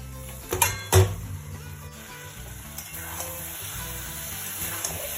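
Marinated chicken going into hot, cooked-down masala for chicken do pyaza, a couple of sharp clattering thumps and then a steady loud sizzle with some pan noise, and no talking.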